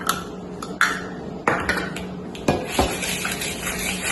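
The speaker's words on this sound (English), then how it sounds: "So just like this, whisking it together." Sugars being whisked in a bowl for peanut butter cup cookie dough, an irregular clatter of metal on the bowl with several sharp clinks and a continuous scraping underneath, close and fairly loud.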